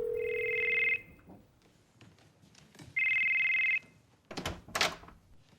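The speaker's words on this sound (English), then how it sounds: "Your phone rang." A phone rings twice with an electronic trilling tone, each ring about a second long, in a quiet room; soft shuffling and thumps fall between the rings and after the second.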